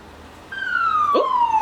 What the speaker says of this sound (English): Is that an ambulance?